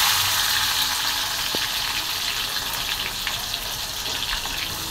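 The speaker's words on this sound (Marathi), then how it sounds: "आता मी एक टोमॅटो टाकून घेतलेला आहे." A tomato frying in hot oil in a small kadhai, giving a loud, steady sizzle and crackle close up that continues throughout with no voices.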